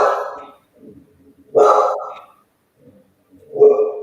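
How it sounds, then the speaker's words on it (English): A nearby dog lets out three separate barks spaced about two seconds apart, with faint low grumbling in the gaps. "She was not barking all the time we've been on here."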